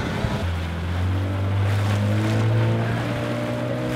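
A boat's engine drones steadily on the ride back to Panglao Island in the Philippines, a low hum over constant wind and rushing water.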